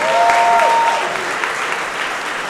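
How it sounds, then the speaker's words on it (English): Wedding guests applaud at a ceremony, a dense, steady wash of clapping that stays loud and close for a couple of seconds before easing slightly, with a faint tone briefly audible at the start. "Let's give a big round of applause to all 4 of those"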